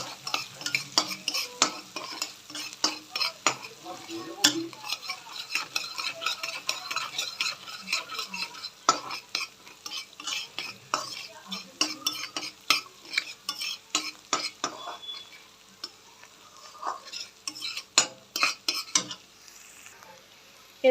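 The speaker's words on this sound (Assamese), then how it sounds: "এতিয়া এইখিনি অকণমান ভাজি থাকিব লাগিব।" Potatoes frying in oil with salt and turmeric in a wok, stirred steadily: a continuous sizzle under repeated scraping and clinking of a metal spatula against the pan, close and fairly loud, with no talking.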